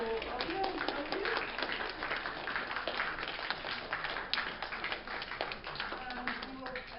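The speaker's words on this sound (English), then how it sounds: "let's just give a round of applause for everyone who was able to go up here" A convention audience applauds cosplay contest entrants, with dense, steady clapping from a sizeable crowd lasting several seconds, voices murmuring underneath.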